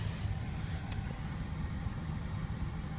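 A 2010 Hyundai iLoad petrol van with manual gearbox idles steadily just after starting, a continuous low engine rumble held at an even level throughout.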